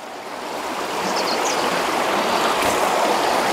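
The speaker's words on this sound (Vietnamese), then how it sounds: "Phải đi qua con suối này đi." A rural stream, crossed on foot near a place with many ducks, flows in a continuous, fairly loud rushing wash that swells slightly and holds steady throughout, with no voices.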